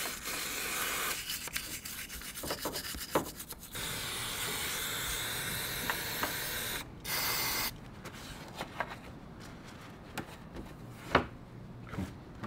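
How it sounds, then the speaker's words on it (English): Brake cleaner hisses from a spray can onto a motorbike chain and sprocket in a garage, several close sustained bursts with short gaps and some rubbing noises, no talking. "do a good brake cleaner that you can just get in there, it's not going to harm anything. Just give it a bit of a wash out."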